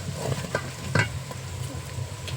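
Spices go into reddened onions frying in hot oil with cardamom and cinnamon for a beef curry, giving a steady close sizzle with a few soft stirring scrapes and clinks.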